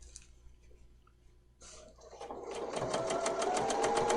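A home sewing machine stitching along a seam edge of a Kimberbell fabric bunny basket project, starting after a pause and settling into a fast, steady mechanical whir with rhythmic needle clatter.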